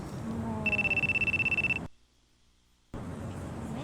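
A phone rings in a Yakuza video game, a steady electronic trill pulsing for about a second beside a body, then cutting off to near silence before ambient game sound resumes.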